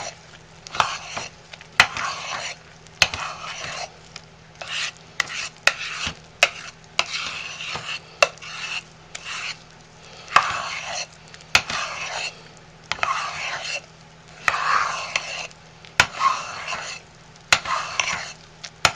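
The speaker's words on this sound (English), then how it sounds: "Now we're going to stir in the super fats." A spoon stirring super fats into a thick mixture, scraping up from the bottom of the pot in repeated rhythmic strokes, with sharp clinks of metal against the pot between scrapes, close and fairly loud.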